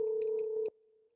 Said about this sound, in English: Bluetooth sound.